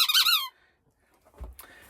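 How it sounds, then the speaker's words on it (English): A dog's rubber squeaky toy squeaks in a quick burst of high, wavering squeals, close and clear, then falls quiet before a soft thump and a brief rustle. "She has her squeaky."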